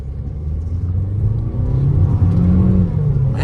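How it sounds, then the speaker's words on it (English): A 2015 Buick Encore accelerating hard enough to spin its tires, its engine droning and rising in a loud, close, continuous roar heard from inside the cabin. "Man, it just wants to spin the tires."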